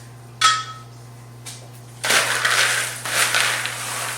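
Ingredients for a zucchini cake being stirred in a mixing bowl: a couple of brief scrapes, then a longer run of close, gritty scraping and crunching strokes.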